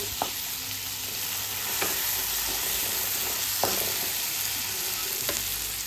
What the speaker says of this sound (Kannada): ಟೊಮೆಟೊ ಹಣ್ಣು ಇದೆಯಲ್ವ ಅದನ್ನು ಹಾಕಿ ಇಲ್ಲಿ ಚೆನ್ನಾಗಿ ಫ್ರೈ ಮಾಡ್ಕೋಬೇಕಾಗುತ್ತೆ